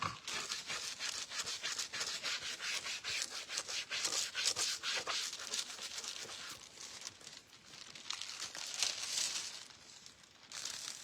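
Steady, close rubbing of metallic foil pressed onto a craft jewelry mould, a continuous dry scratchy friction sound in short back-and-forth strokes with slight swells, alone without talking.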